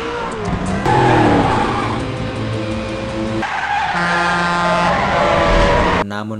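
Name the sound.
car chase engines revving in film Faster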